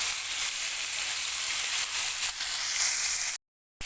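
Chunks of meat for a lamb tajine sear in a hot pan with a dense, loud, continuous sizzle close up that runs steadily before cutting off abruptly near the end.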